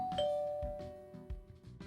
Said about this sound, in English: I was considering what to prep first when the doorbell intercom rang